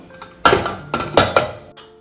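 A pressure cooker of jackfruit seed and cucumber curry is opened after cooling, giving several sharp metallic clanks and clinks of the lid and pot in quick succession, close and fairly loud.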